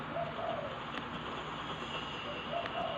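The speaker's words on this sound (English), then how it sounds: "Stupid bird, said Henry. Owls, mists, ghosts" An owl hoots twice, soft and somewhat distant, over a steady hissing background with no talk.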